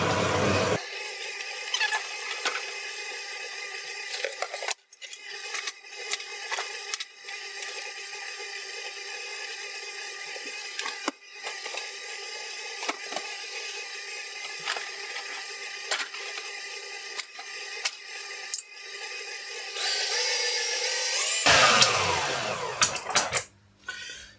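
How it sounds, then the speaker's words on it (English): Electric stand mixer rubbing butter into flour for cheese and bacon scone dough, a steady whirring, rattling motor hum that runs on alone for over twenty seconds with brief dips and a louder burst near the end. "I'm going to be lazy and I'm using the mixer"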